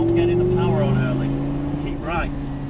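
A car accelerating hard on a track during a driving day experience, its engine a steady loud drone with rising pitch running throughout, while an instructor talks over it.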